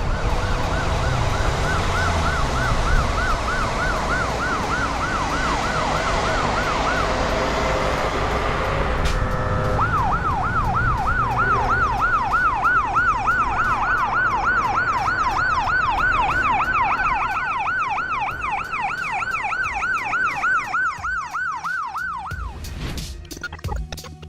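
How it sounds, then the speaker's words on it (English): Ambulance siren wailing loudly in steady repeating sweeps, blending with surrounding traffic noise and a train-like rumble, continuing for most of the stretch before cutting off near the end. "the ambulance has to move in the lane with the rest of the cars, even though the siren is on"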